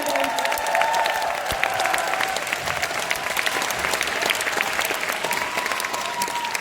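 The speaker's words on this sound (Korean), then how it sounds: "큰 박수 부탁드리겠습니다." A seminar audience at a network marketing event in a large hall gives sustained, loud applause that runs without pause, with a held tone and faint cheering woven through it.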